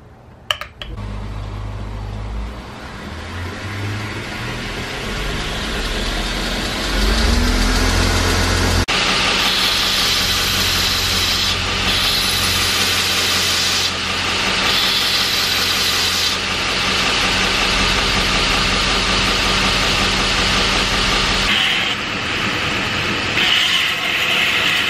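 A 2x72-inch belt grinder of about one horsepower grinds down a small metal flange, making a loud, steady, close roar and whir that holds almost unbroken for the whole stretch.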